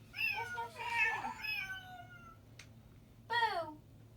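A cat meows in a drawn-out, wavering, song-like string of calls at close range, pauses, then gives one more rising meow after a brief click.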